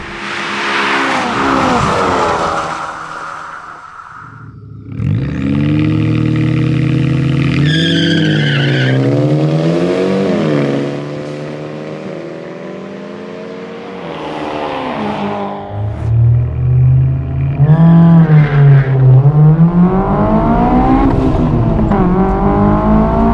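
Three roadsters, a Honda S2000, a Mazda Miata RF and an Abarth 124 Spider, race side by side, engines revving hard and climbing through gears, with tires squealing and skidding, loud and close throughout.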